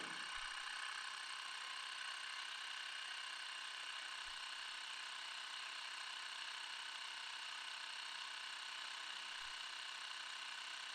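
A Mi portable electric air compressor runs steadily while inflating a soccer ball, giving a continuous close motor drone with a bright buzzing whine and a few faint low thumps, no speech.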